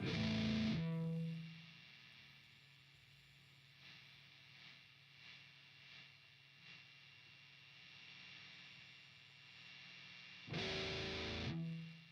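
Bursts of heavy distorted guitar amp noise from a Line 6 Helix modeler at the start and end, with a quieter buzzing hum in between.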